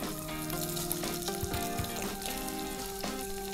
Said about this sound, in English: fry them till they give it a little color and add a little more oil